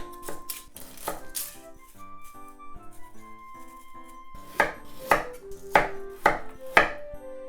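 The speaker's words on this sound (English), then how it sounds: "I'm gonna be lazy and use the garlic smasher" Garlic and ginger pressed in a garlic smasher for homemade kimchi: a series of close, sharp crunching squeezes, lighter at first, then five stronger evenly spaced presses.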